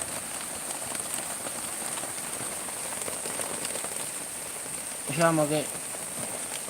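Steady rain falls through a storm at night in Salerno, a constant hiss on surfaces that runs the whole way, with a brief voice speaking near the end.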